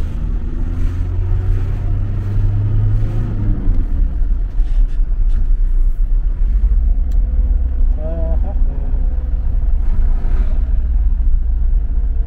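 A truck drives calmly along the road, its low engine rumble and road noise steady and close, with someone talking over it throughout.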